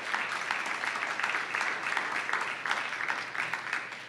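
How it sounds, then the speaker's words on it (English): Audience at a community meeting clapping in a steady, moderate round of applause, the many overlapping hand claps at some distance and fairly quiet, with no voices over it. "I would appreciate it if you would give the members who are here a round of applause"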